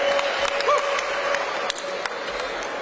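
A crowd at a rally for Pennsylvania's film tax credit applauds and cheers for the Pittsburgh Film Office, with dense, steady clapping throughout and a few sharper claps standing out.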